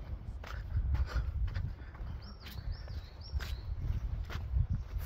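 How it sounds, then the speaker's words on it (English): Birds whistle on a Sunday nature walk on the Clent Hills, a few short rising chirps in the middle against steady outdoor rumble and footstep-like thuds. "And you can hear the bird them a whistle."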